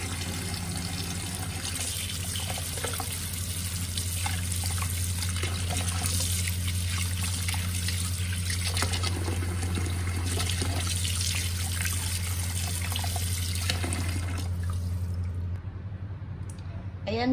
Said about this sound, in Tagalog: Isa-isa po na huhugasan para malinis yung ating